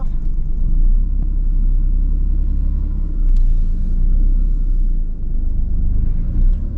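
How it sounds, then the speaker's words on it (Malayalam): A car engine rumbles low and steady as the car creeps slowly forward to park close behind a vehicle in front, heard from inside with no sharp revving. "ഞാൻ മാക്സിമം മുന്നോട്ട് ചേർന്ന് നമ്മുടെ വണ്ടിയായിട്ട് വരുന്നു"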